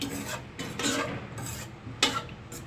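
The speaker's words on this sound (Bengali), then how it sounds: "এখন আমি একটু নাড়া দিয়ে দিব।" Vermicelli semai with raisins gets stirred in a pot, heard as a close series of soft rasping scrapes in uneven strokes, about five in under three seconds.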